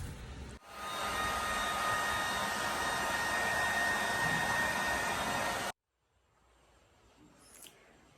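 A hair dryer blows steadily on freshly pink-dyed hair for several seconds after one brief dip, then cuts off abruptly, leaving quiet room tone with a faint rustle.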